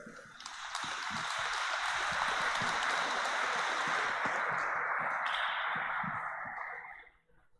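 A church congregation applauds during a Sunday Mass homily, a soft, dense wash of many hands clapping that builds quickly, holds steady for several seconds, then fades away.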